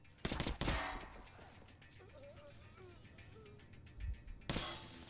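Gunshots ring out in Metro Last Light Redux: a loud pair of close blasts opens the moment and another shot lands near the end, with quieter game ambience in between.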